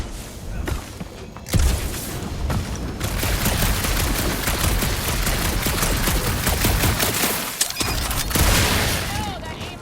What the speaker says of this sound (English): No, that aimless shooting isn't gonna scare the monsters away, right?